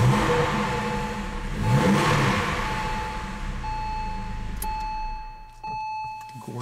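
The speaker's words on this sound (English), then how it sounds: "Gorgeous sound from the exhaust system." Exhaust note of a 2003 Porsche 911 Carrera coupe as the engine is started and revved, a loud rising rev that swells and settles, followed by a quieter idle with a faint electronic chime.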